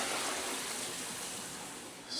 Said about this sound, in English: Let me flush it one more time.